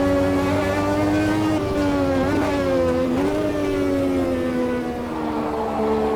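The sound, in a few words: racing car understeering, Automobilista 2 video game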